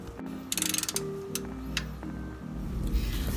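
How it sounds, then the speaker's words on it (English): Socket wrench ratcheting to tighten the oil drain plug on a 2008 Kia Sportage, a quick run of close metallic clicks followed by a few separate ratchet strokes and clunks. "then tighten it with your socket wrench"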